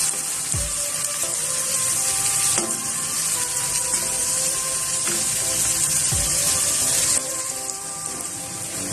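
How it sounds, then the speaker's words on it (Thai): Egg frying with sautéed banana peppers in a hot pan, a dense constant sizzle close up, with a few soft utensil knocks and low thumps as it is stirred. "จากนั้นเราใส่ไข่ลงไปค่ะ"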